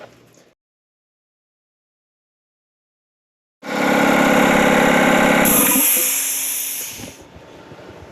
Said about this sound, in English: I'm going to use my air compressor to test for any leaks